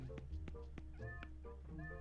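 A cat in Zelda: Twilight Princess HD gives several short, fairly close meows in a rhythmic series over a steady low background hum.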